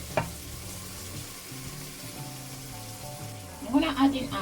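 Onions and garlic sizzle steadily in a pan for a cassava and beans dish, with soft scraping as they are stirred and a louder burst of frying near the end.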